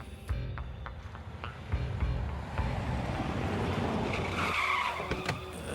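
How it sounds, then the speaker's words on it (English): A car pulls up outside a restaurant with tires skidding, a loud sustained rumble and screech of rubber on the road, with engine noise throughout and no talking. "Three guys pull up outside, jump out of a car."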